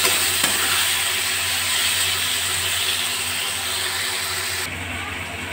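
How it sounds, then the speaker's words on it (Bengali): Ridge gourd and potato curry with green chillies and sugar fries in a pan, giving off a steady close sizzling hiss throughout, with faint scraping as it is stirred. "মাঝে মাঝে একটু এইভাবে নাড়াচাড়া করে নিতে হবে।"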